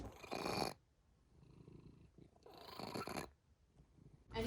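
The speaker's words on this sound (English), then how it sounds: "When he purrs, it's labored." A sick cat purrs in rough, rasping waves, each breath loud and labored, with quieter pauses between the wheezy cycles, very close.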